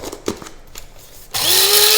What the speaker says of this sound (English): we need to grind it up